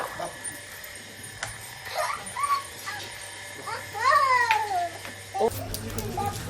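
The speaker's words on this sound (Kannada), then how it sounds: "ತುಂಬ ಜನ ಕೇಳ್ತಿದ್ರಿ ಟೈಸನ್ನ ತೋರಿಸಿ, ಚಿಕ್ಕವನ್ನ ನಾಯಿ ಮರಿ ತೋರಿಸಿ ಅಂತ." A young dog whimpers and yelps in short high rising and falling cries, fairly close, mixed with children's voices and background talk, with a steady low hum underneath.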